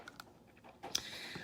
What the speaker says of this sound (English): And then you just click it back down in place.